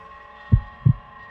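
A heartbeat sound effect gives two deep, close thumps about a third of a second apart over a faint low hum.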